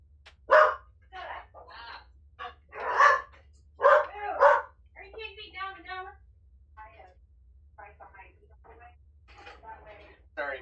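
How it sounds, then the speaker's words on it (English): Dogs barking loudly and close in bursts of sharp, repeated barks, interleaved with quieter yips and whines, over a low steady hum; someone talks faintly between the barks. "Sorry about the dogs."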